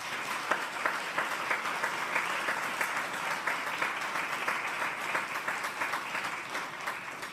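An audience at a presidential rank award ceremony applauds the recipients in steady, even clapping from many hands, sustained throughout at a moderate distance.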